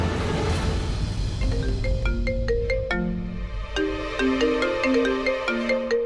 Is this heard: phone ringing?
yes